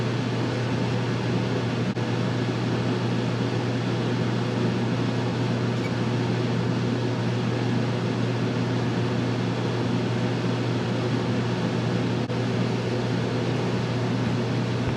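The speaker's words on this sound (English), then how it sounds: "I'm going to go ahead and kick the compressor on" An RV air conditioner running with its fan blowing and compressor engaged, a loud continuous hum and whoosh with a low steady drone, unbroken throughout, no talking.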